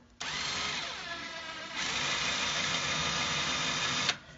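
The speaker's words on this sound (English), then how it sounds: "Take my drill, line it up right in the middle." A power drill whirs steadily at close range, drilling into wood with its pitch rising partway through, then cuts off abruptly.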